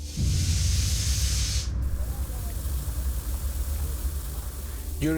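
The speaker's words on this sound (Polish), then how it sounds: "Nagle pojawia się problem. Usłyszeliśmy syczenie." Air hisses steadily from a truck's pneumatic brake line that came loose in a crash, a continuous broadband rush heard up close beside a road, with one sharper burst at the start that drops off abruptly.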